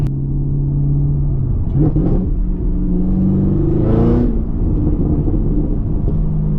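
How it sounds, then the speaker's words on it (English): Deep, throaty exhaust rumble from a Camaro ZL1 1LE idling and blipping the throttle, with two sharp revs and a louder swell before settling back to idle. "you can get this exhaust, and it sounds good"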